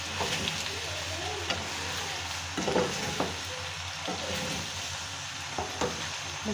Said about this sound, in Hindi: केचप मैं बीच में मिक्स करूँगी